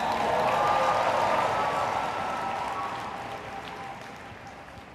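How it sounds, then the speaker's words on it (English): A crowd at a sales presentation for a wellness product line applauds, a sustained wash of clapping that starts fairly strong and gradually fades over several seconds. "You all can applaud for that."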